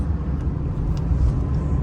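A car interior fills with a low, steady engine rumble while driving, a brief, constant drone with no speech over it.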